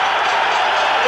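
A boxing crowd on its feet at the close of the Dave Hilton Jr. versus Thobela bout roars in a dense, steady wall of cheering and noise, loud and continuous throughout.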